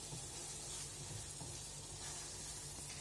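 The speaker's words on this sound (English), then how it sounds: "So the chicken's been frying in the masala for some time now, for about a couple of minutes." Chicken pieces frying in a spiced masala with ghee for a chicken ghee roast, giving a steady, close sizzle with soft crackle and occasional stirring, no voices.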